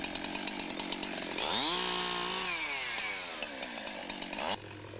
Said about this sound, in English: Running a chainsaw in a tangle of brush introduces kickback hazards